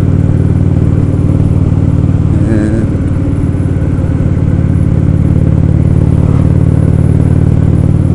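Indian Roadmaster motorcycle cruising on a highway, a loud, steady low engine drone with heavy wind rumble, close and continuous, with one brief rise in pitch partway through.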